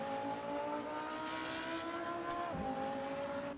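An Audi R8 engine in a racing simulator game drones at high revs, with a sharp drop in pitch partway through as it shifts, then climbs again; continuous and loud, with no talking.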